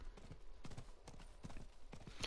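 Horse hooves clip-clop in the Diablo 4 video game, a steady run of soft hoof thuds at moderate pace over faint background game ambience, with no voice.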